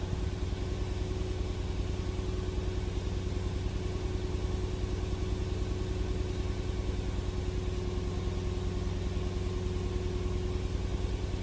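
A Nissan Xterra engine with a misfire idles steadily and close for the whole stretch, giving a constant low rumble with a fixed hum and broadband noise, no voices and no clear change in pitch.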